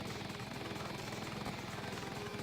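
A helicopter in the Transformers Decepticons video game thrums steadily with dense rotor chop, loud and unbroken throughout.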